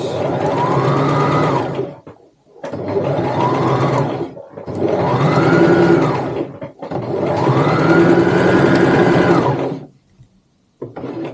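Sewing machine stitching a tote bag with back stitching, four loud close bursts of rapid whirring stitches, each rising and falling in pitch, separated by brief pauses.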